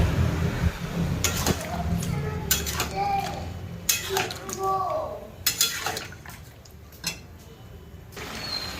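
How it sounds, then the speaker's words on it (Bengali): Chicken masala with ground ginger, garlic, cumin and coriander is stirred and fried in a pan, with scattered spoon clinks and scrapes, some sizzling, and someone talking over it. "দিয়ে সুন্দর করে আমি এবার মশলাটাকে কষিয়ে নেব।"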